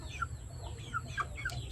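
Backyard breeding hens of gamefowl stock cluck in short, close, repeated calls over a low background rumble.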